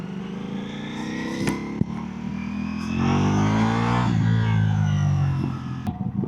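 A Ducati Multistrada V4 Pikes Peak fitted with an upgraded exhaust revs hard close by, its engine note rising and falling in loud sweeping pulls with a few sharp pops.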